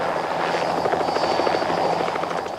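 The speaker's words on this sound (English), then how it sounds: "a helicopter is carefully positioned on a platform of plywood boxes" Bell Jet Ranger helicopter on a film set, sitting on a platform of plywood boxes, gives a steady, loud rotor whine and chop that runs evenly throughout.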